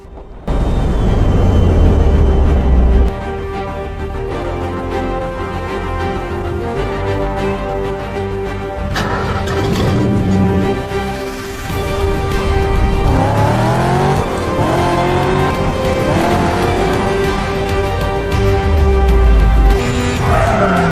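Video game buggy and truck driving together, loud roaring engines with rising and falling revs, shifting gear tones and occasional tire squeals, close and continuous with no talking.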